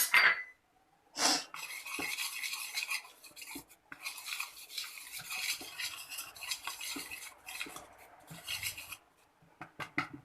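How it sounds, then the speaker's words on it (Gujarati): Gram flour khaman batter is stirred in a bowl, a close rhythmic scraping and rubbing of a spoon against the sides, in bursts with short pauses and an occasional clink, no voices. "હવે એને મિક્સ કરી લઈશું"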